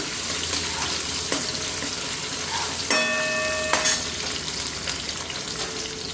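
Onion and tomato frying in a pan during home cooking, with a steady close sizzle that runs throughout, broken by brief clatters and splashes of stirring and a short high ringing scrape of a utensil against the pan.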